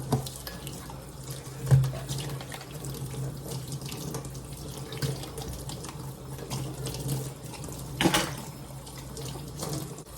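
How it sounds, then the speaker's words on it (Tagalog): Tap water runs steadily into a sink while drinking tumblers are rinsed, with a continuous splashing hiss and a couple of louder clinks and knocks as the cups are handled. "I'm just washing my tumbler and his tumbler to get water before we go to bed."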